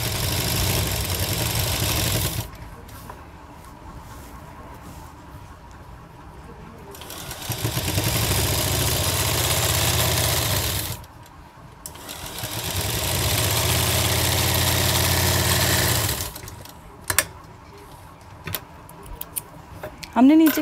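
A sewing machine puts a finishing stitch along a kurti sleeve in long, steady whirring runs, loud and close, broken by short pauses. The machine stops near the end, leaving a few clicks and handling noises.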